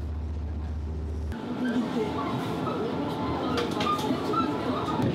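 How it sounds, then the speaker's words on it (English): A passenger train runs daily toward Dorasan Station, Korea's northernmost station near the DMZ border, a steady low rumble and rolling noise with faint clanks, continuous throughout after an abrupt onset. "People get on the train that runs daily to and from the border they can't cross."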